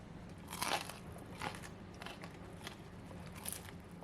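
Crunchy bites into crispy deep fried cauliflower topped with curry leaves, four distinct crisp crunches spaced about a second apart, close and fairly quiet with no talking.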